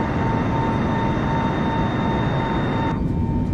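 A steady, loud roar of an airplane engine at full power during takeoff in Microsoft Flight Simulator 2020, with faint tonal whines running through the continuous rumble.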